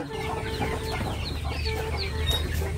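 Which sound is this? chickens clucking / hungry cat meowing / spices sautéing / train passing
chickens clucking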